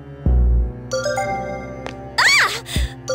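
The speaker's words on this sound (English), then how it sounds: "My cell phone? Why now?" A cell phone rings in the Persona 3 FES video game, a bright melodic ringtone with warbling, rising and falling tones that enters partway through, over a sustained musical background with low thuds.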